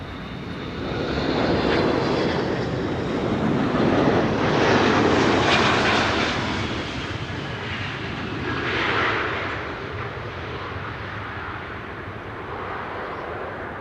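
KLM flight 1406 passes unseen above the clouds near Amsterdam Schiphol, a broad steady engine roar that swells and fades over about fourteen seconds, moderately loud and distant, with no talking.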